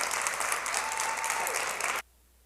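An audience at an Africa Night event applauds after a poem, a short burst of steady clapping that stops abruptly into near silence.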